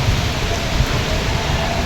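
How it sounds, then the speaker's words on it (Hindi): Heavy rain pours onto a village house rooftop, a dense constant roar of loud close hiss and patter with no pauses. "बहुत तेज़ बारिश आ रही है, बहुत तेज़ बारिश।"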